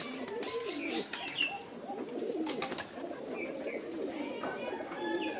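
Pigeons coo in a loft where a single female Afsan grizzle is kept, with soft rolling calls repeating steadily throughout, occasional chirps and faint talk in the background.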